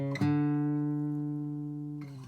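A single sustained guitar note rings out loud and alone, with a pick attack near the start and a new note struck just before the end, part of a short chromatic run on the 5th string in a blues lick.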